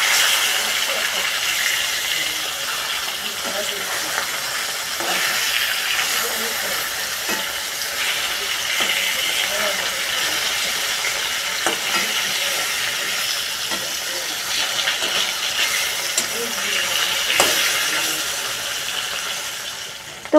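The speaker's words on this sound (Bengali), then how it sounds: "মাছগুলো প্রায় 1 পিঠ ভাজা হয়ে গেছে। এবার উল্টিয়ে দেব।" Pieces of rupchanda fish sizzle steadily in hot oil, one side nearly fried, a dense continuous crackle with small pops running throughout at close range.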